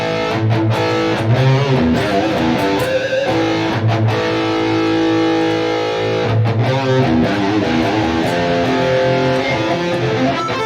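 Sustained electric guitar chords through a Fractal Audio AxeFX II reverb ring out loudly with a wash of reverb trailing each strum, steady and continuous without talking.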